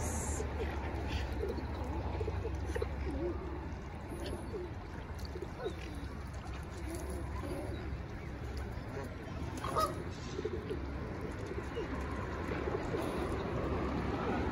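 Pigeons cooing from about a foot away, low soft coos repeating over a steady outdoor background, with a faint voice now and then.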